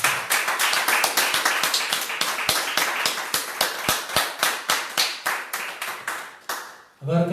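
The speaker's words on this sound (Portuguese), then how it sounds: "Vamos dar uma salva de palmas para o nosso Deus." A church congregation at a live service claps for God in a fast, even rhythm of loud, distinct handclaps that continues for several seconds, then breaks off abruptly.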